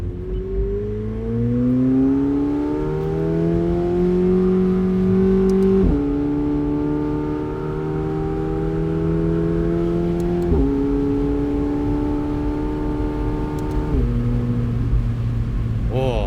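A McLaren 750S Spider with its top open, running in track mode, revs through several rising sweeps with sharp shifts in between, loud and close. A voice is heard faintly beneath the engine.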